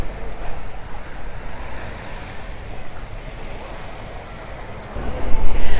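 Surf breaking on Palmanova's sandy beach in Mallorca, a steady broadband wash of waves with wind noise, swelling louder near the end as a wave rolls in close.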